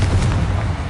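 A Confringo fire spell explodes in the Hogwarts Legacy video game, a dense, rumbling low boom that fills the whole second at steady loudness.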